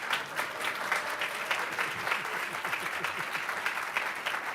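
An audience at a Heritage Foundation policy event applauds a speaker's introduction. Clapping is steady and dense, of moderate loudness, from many hands in a hall.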